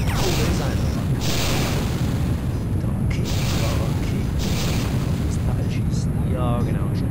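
Gunfire and explosions rumble dense and loud throughout a battle in the video game Independence Day ID4, a continuous low-heavy roar with occasional sharper bursts and a voice talking over it.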